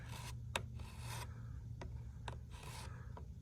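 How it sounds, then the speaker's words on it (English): A chisel back-drags caulk along a corner seam on the exterior of an S-144 shelter, giving faint, intermittent rasping scrapes with a few sharp ticks over a low steady hum, quiet and close. "Now I'm just going to take my chisel in here and just back drag this corner"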